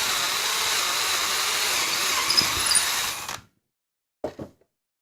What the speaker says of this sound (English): I'm going to drill some pilot holes.